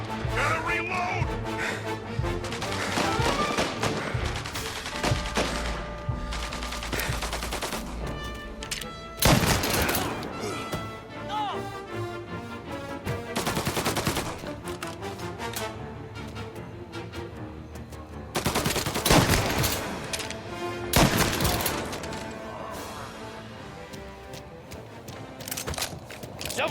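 Gunfire in the video game Mafia Definitive Edition, dense bursts of shots and heavy impacts layered over music and game effects, with occasional voices during the firefight.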